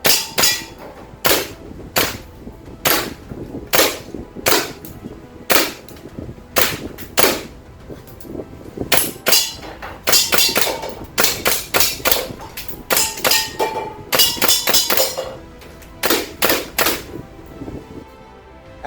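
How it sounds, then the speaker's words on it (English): A WE M4 CQBR gas blowback airsoft rifle fired in semi-automatic, a steady run of sharp, loud, close cracks in quick succession with brief gaps, about two dozen shots. "it is now time to test fire the unit."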